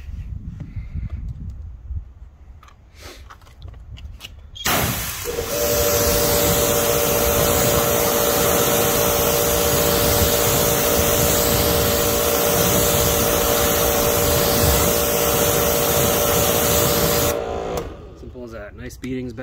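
A forced-air blower dries freshly sealed car wheels, a loud, steady whooshing roar with a humming motor tone that kicks in after a few seconds, runs continuously, then cuts off near the end.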